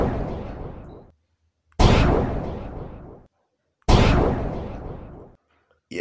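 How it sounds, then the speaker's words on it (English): A gun salute sound effect booms in three evenly spaced heavy blasts, each one loud and sudden, then fading out over about a second before near silence. "we tried with a 3-gun salute"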